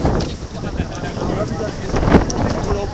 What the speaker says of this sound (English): Got a stiff breeze blowing out here today. It's kind of windy